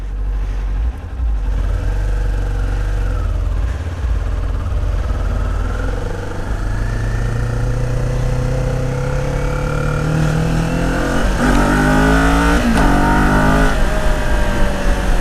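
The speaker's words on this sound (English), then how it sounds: "we are officially riding the 400" A Kawasaki Ninja 400 motorcycle's engine drones loudly and steadily while riding, rising in pitch as it accelerates through the gears with brief dips at shifts, heard close and alone.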